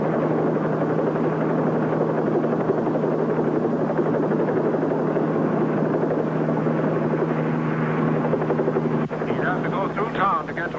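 A helicopter drones steadily overhead with a continuous low rotor rumble, while voices talk over it.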